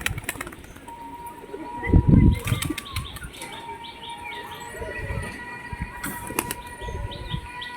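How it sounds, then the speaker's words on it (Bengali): A male pigeon is released from the hand and bursts into flight with a loud flurry of wing flaps, followed by more scattered flapping and faint chirps while other birds move nearby. "এটা নর পায়রা, এটা শুধু হালকা করে ছেড়ে দেবো, ভ্যানিশ হয়ে যাবে পায়রা"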